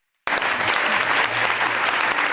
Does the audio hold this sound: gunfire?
no